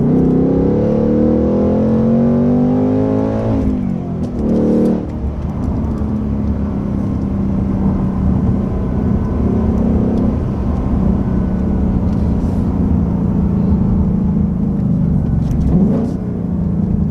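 A Ford Mustang S650 engine with a Steeda clutch assist spring idles loudly, then revs and settles into a sustained drone as the clutch and gas are worked, with brief pitch rises.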